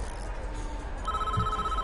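Telephone ringing in the prison-building video game Prison Architect, a short electronic ring tone starting partway through and continuing steadily over a background of game ambience.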